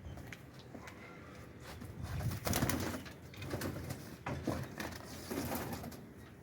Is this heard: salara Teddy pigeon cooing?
yes